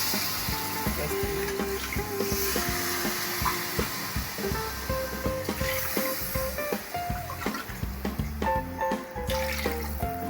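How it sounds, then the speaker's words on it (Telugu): Water runs steadily into a pot of rice on a stove turned to low while cooking egg biryani, a continuous gurgling pour with faint clinks over it and no voices. "దీంతో నేను ఇప్పుడు 4 కప్పుల నీళ్ళు ఇందులో వేస్తాను."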